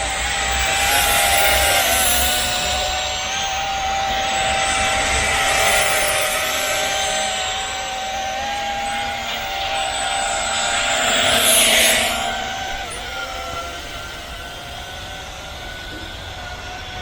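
A Flying Speedy F42 toy drone airplane flies at its lowest speed setting, a steady high-pitched propeller whine that holds close and even for the whole stretch, swelling briefly near the end.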